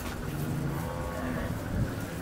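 A cow moos at the Modnimb cattle market, a low, drawn-out call rising over the steady murmur and bustle of the market.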